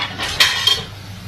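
A spoon clinks and scrapes against a bowl while working mashed ripe plantain batter for fritters, with two sharper taps near the start over a steady low hum.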